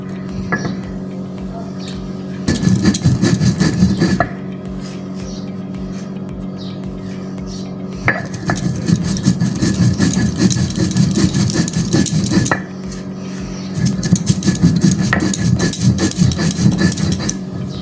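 An electric spice grinder pulverises black pepper, cinnamon, cardamom and green chillies in three loud bursts of whirring, rattling motor noise, separated by short quiet pauses.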